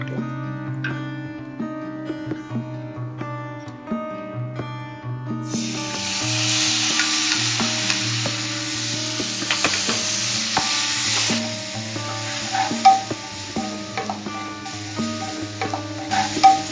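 Mango pieces go into hot oil for a Tamil puli sheri and are stirred and fried; a steady bright sizzle with scraping stirs starts about a third of the way in, over soft background music.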